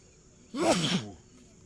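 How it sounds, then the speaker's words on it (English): A single short, breathy sneeze bursts out close by, then quiet returns. "That was me that sneezed."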